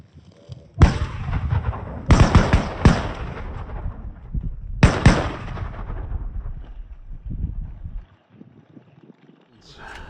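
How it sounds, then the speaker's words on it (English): Shotgun blasts during a duck hunt on ice, four or five loud booming shots fired in quick succession, each followed by a rolling echo, with people talking around them. "You noticed my gun went off, right?"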